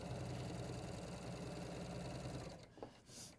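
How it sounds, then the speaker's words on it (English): A domestic sewing machine runs at high speed, stitching a garment made of boiled wool, a steady rapid whirring hum that fills most of the clip and then stops abruptly near the end. "So here we go, some speed sewing now for us."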